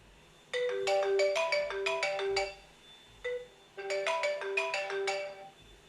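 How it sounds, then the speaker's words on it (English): An incoming-call phone ringtone plays loud and close: a bright, repeated melodic pattern in two bursts separated by a short pause, with no voices over it. "Imagine this phone call right here."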